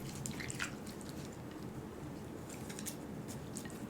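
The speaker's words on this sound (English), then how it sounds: "Let me stir the sauce up a little bit." Sauce being stirred in a bowl of pho, giving soft, wet squishing and dripping sounds, close and quiet, steady for a few seconds with no talking.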